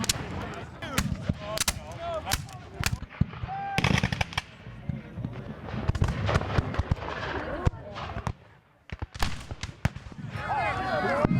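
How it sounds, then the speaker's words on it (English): Rapid, loud booming blasts of cannon and gunfire crackle in dense bursts at a battlefield re-enactment in Kentucky, with a brief lull near the end before the firing resumes. "The last cannon is fired."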